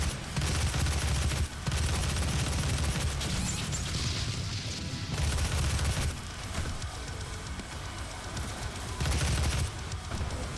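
Rapid gunfire hammering armored enemies in DOOM (2016), loud bursts of shots with metallic impact clanks, broken by a few brief pauses, fairly close and steady throughout.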